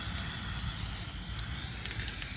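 Aerosol can spraying RP-342 cosmoline anti-rust protectant, a steady close, loud, broadband hiss held continuously throughout with no pauses or talking.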